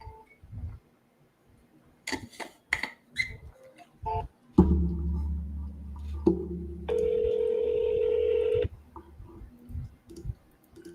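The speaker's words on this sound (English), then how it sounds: "Your call has been forwarded." Telephone line sounds on a forwarded call: scattered clicks, then a low droning signal followed by a steady, fairly loud ringback-style tone lasting a couple of seconds before it cuts off.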